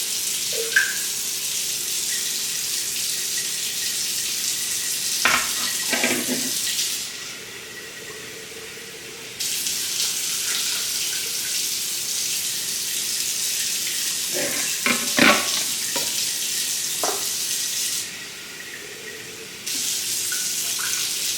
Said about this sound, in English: I'm going to put some water in here, swish them around, pour the water out